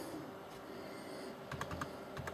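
Quiet keystrokes on a USB computer keyboard attached to an Advent 7302 laptop, a few scattered taps at first, then a quick cluster of clicks over a low background hum.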